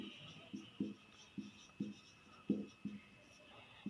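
A maths solution being written out: close, quiet scratchy strokes in a steady rhythm, about two per second, over a faint constant hum.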